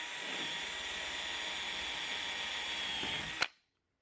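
A power drill whines steadily and loudly while boring through fiberglass and aluminum framing on an RV slide topper awning install, then stops abruptly with a short clack and falls silent.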